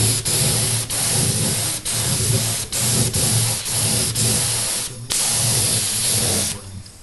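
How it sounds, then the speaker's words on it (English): A spray gun finishes the exposed top of a 1965 Grammer guitar during a pickguard replacement, giving steady loud hissing bursts in rhythmic passes with brief pauses between strokes, close and alone. "I'm going to have a lot of overspray"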